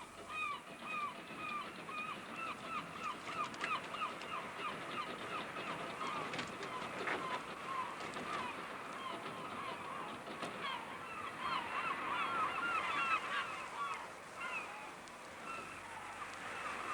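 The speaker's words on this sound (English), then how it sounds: "Some hungry gannets are there too." Gannets calling around a fishing trawler at sea, many harsh honking cries repeating in a steady chorus over the constant rumble of the boat and wind, moderately distant.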